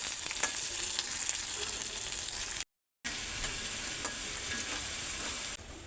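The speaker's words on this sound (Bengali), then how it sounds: "পেঁয়াজগুলো লাল লাল করে ভেজে নিব।" Onions fry in a pan with a dense, crackling sizzle heard up close, steady apart from one brief dropout partway through.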